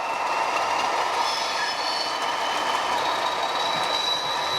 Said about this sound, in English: This Bachmann 40142 Class 40, I think is the best diesel locomotive we've got.